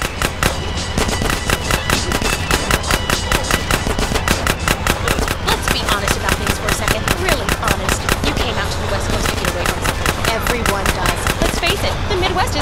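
Rapid continuous gunfire from a drive-by shooting in GTA San Andreas, loud evenly spaced shots rattling for the whole stretch, with game dialogue voices occasionally underneath.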